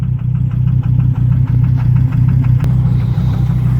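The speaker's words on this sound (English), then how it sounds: "So now I've heated up the engine by running it." A Volvo engine runs to warm up, a loud close idle with a steady rhythmic chugging and knock, heard alone without talk.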